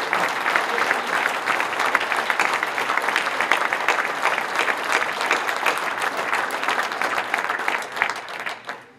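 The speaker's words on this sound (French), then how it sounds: "je vous demande d'applaudir fortement Ewen Fernandez" Steady, strong applause from the audience at a French roller sports federation awards assembly, honouring a world champion roller skater. The clapping stays dense and even for several seconds before tapering off at the end.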